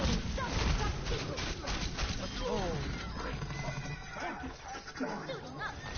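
A horse neighs and whinnies in a video game, the call rising and falling over busy game sounds and a steady background bed, fairly loud and close.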